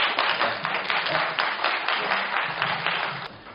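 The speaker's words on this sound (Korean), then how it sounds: "이 주장들을 잘 이해해 보신 세 분에 대해서 큰 박수를 부탁드립니다" An audience at a Korean book lecture on the future of an AI robot claps for three students, a dense, steady wash of many hands lasting throughout and tapering slightly at the end, with no talk over it.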